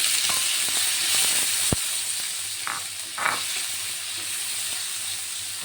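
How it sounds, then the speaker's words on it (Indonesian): Tomatoes stir-frying in a little oil in a pan for mee kuning soup, a steady close sizzle with a few scraping clicks of the utensil. "Kita masukkan sedikit minyak. Kemudian tumis tomatnya."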